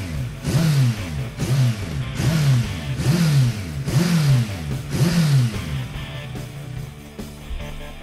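A motorcycle fitted with a LeoVince exhaust revs on a dynamometer test bench, rising and falling in about six even, loud cycles before settling to a lower steady drone.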